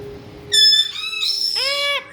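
A pet bird in a home bird room gives a run of loud, harmonic squawks and whistled calls, one after another over about a second and a half, close to the microphone with no talking.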